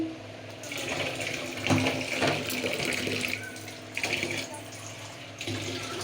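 Tap water runs and splashes steadily while bailla fish is washed in a home kitchen, the flow surging and easing briefly with faint talk in the background.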